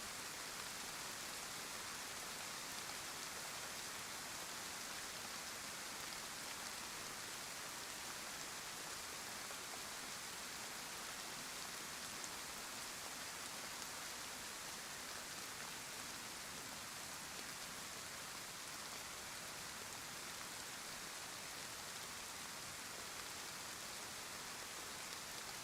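Constant hiss of rain falling in DayZ on the Chernarus map, even and unbroken, soft and steady throughout with no voices.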